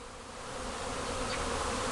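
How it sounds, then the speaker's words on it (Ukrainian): Honeybees buzzing at a spring apiary on a cool but sunny morning, a steady, dense drone of many bees that swells slightly and holds, close and continuous with no voices. "Бджілка носить."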